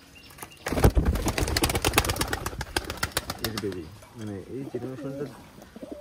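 Khulna pigeons cooing nearby in soft repeated rolling calls, heard beneath someone talking, with a burst of wing flapping early on.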